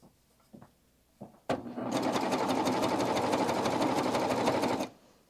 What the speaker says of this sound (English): And then we'll start to sew.